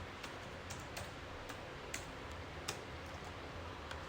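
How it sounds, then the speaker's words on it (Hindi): Faint, scattered keystrokes on a computer keyboard as a question is typed into an online form, light irregular clicks over a quiet background hiss. "यहाँ पे मैं अपना क्वेश्चन टाइप करूंगी"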